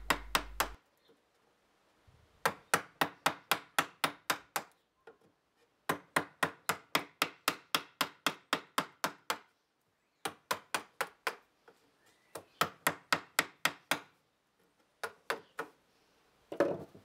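Steady mallet blows on a wood chisel cutting timber to shape rounded corners, sharp woody knocks in quick even bursts of about eight to twelve strikes separated by short pauses, close and clear with no talk.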